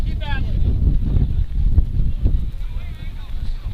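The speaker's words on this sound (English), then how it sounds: "Keep having to turn down our crowd mic because of the wind." Strong gusting wind buffets a crowd microphone at an outdoor high school baseball game between Liberty Hill and Leander, a loud, continuous low rumble with faint voices underneath.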